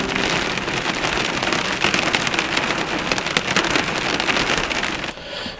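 Hail falls in a storm over a river valley near Paradise, New Zealand, making a dense, loud, continuous pelting patter that drums steadily for several seconds and then suddenly stops.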